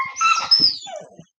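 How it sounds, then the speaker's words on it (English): Dogs playing together, giving short excited barks, yips and whines in quick bursts, close by and fairly loud, with no talking. "that's my dogs playing"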